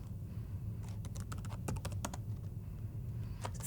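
Keys clatter on a computer keyboard in quick irregular bursts of light, close taps, faint over a steady low background hum.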